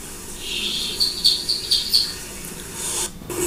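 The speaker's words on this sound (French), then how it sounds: "Petit pinson des arbres." Common chaffinch singing in Île-de-France woodland, a short series of bright chirping notes rising and falling over about a second, fairly close and clear against a quiet background.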